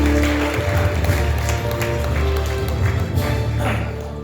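An audience at a live jam session breaks into steady applause, with a low hum running underneath and scattered sharper claps rising near the end.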